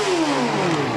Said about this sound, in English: Full revs and full marks for Chris Walker.